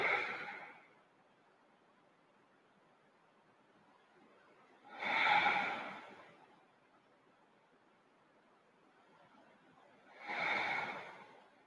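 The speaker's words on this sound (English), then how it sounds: "inhale fully, deeply. Exhale, release, relax." During a gentle yoga stretch, three slow, deep breaths come at roughly five-second intervals, each a soft, airy swell of inhaling and exhaling, close and quiet against near silence.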